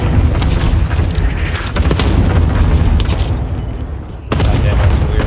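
Cluster strike explosions in a multiplayer shooter: a loud, dense barrage of booming blasts and crackling impacts that roll on for several seconds, briefly easing before another heavy burst.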